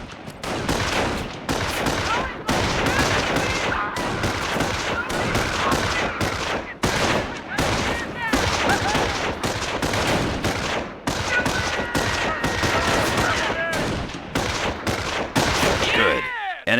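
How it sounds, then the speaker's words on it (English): Loud, sustained gunfire rattles through a Company of Heroes World War II skirmish, machine-gun bursts and rifle shots stacking in fast irregular volleys, with brief voices breaking in between the shots. "They're taking pot shots at us!"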